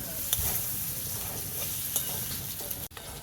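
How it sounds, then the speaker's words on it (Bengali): Potatoes stirred and fried in hot oil with a little turmeric and salt, a constant close sizzle broken by a few light utensil taps and one sharp knock near the end, no one speaking. "আলুগুলোকে আমি নেড়ে চেড়ে করে ভেজে নেব।"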